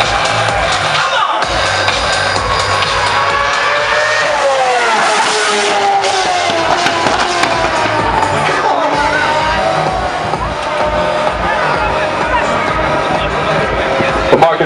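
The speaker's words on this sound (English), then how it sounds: "مشهد تاريخي هون بقطر، سيارة فورمولا 1 فيراري." A Ferrari Formula 1 car laps a street demonstration circuit in Qatar, its engine droning and shifting pitch continuously over a loud crowd and background commentary throughout.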